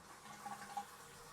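A rebuilt toilet tank flushes, giving a brief, faint rush of running water with no other sound.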